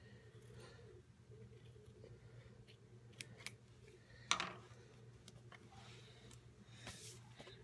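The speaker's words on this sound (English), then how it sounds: "And then I will cut this off at the bottom here." Scissors cut paper for a mail craft in a hotel room, soft scattered snips with one sharp close cut midway, set against a quiet steady room hum and no talking.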